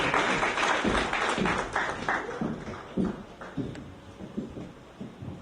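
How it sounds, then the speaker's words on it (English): Scattered applause from a crowd at a school graduation ceremony, loud at first and then thinning out into irregular individual claps. "Let's give her a round of applause as she graces the stage"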